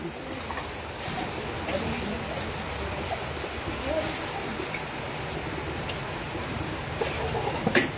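A river current rushes steadily, a continuous broadband wash with small irregular splashes throughout, moderately close and without talk.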